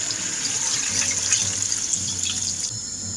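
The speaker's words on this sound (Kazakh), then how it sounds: "Суымды құямын." Water runs steadily into a cooking pot holding mutton, carrots and potatoes, a close, even splashing flow lasting about three seconds before it eases off.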